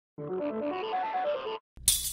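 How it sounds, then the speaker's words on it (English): A glass-breaking sample in electronic music production, heard as a bright ringing chime-like tone for over a second, then a short silence and a sharp crisp shatter with scattering debris, close and clear. "that's like a nice glass sound or something like that"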